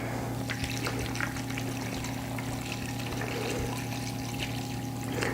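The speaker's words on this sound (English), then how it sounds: "And now we'll just cover it with water." Water pours into a pot over vegetables and chicken for making stock, a steady splashing trickle with a low hum underneath, fairly close and continuous.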